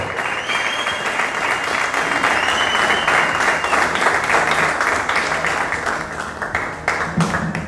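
An audience gives a big round of applause to a bassist at a music clinic, dense clapping building and holding for several seconds before thinning out near the end.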